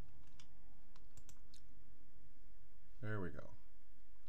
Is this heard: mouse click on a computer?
yes